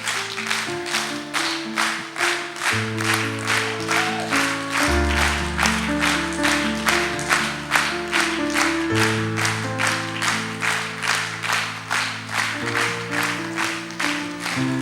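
A church congregation claps in a steady rhythm along with sustained music and singing, the regular beat of many hands running unbroken through the whole passage.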